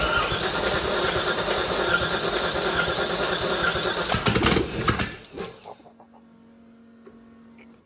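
An LS-swapped Nissan D21 Hardbody pickup with no exhaust fitted runs loud and raw, a harsh close roar that cuts off abruptly near the end, leaving faint ticking and a low hum.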